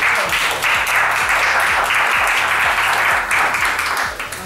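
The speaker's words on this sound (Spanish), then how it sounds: "Ahí está, un aplauso para él." A live audience at a Bond fan convention's comedy contest applauds steadily, dense loud clapping sustained throughout with a slight fade near the end.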